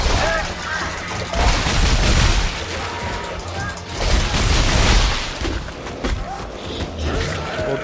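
Dense, continuous gunfire in the video game Dead Space 3, with booming blasts and crashes, loud and sustained throughout, with voices faintly underneath.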